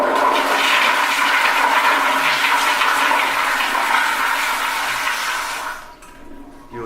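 A toilet tank refilling with a steady rushing hiss of water that tapers off and quiets near the end.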